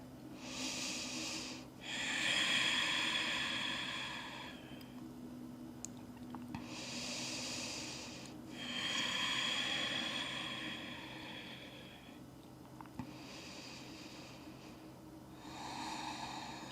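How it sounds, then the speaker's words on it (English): Slow, deep breaths during a morning yoga stretch, each long inhale and exhale drawn out over a few seconds in a steady repeating rhythm, close and soft with no talking. "Breathe here."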